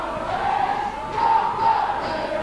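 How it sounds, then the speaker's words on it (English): Jubilee rugby league supporters shouting and chanting in the stand at a Keighley match, a sustained massed crowd roar that swells in the middle, heard from a neighbouring stand. "They are Jubilee supporters in the stand next to us, making as much noise as possible."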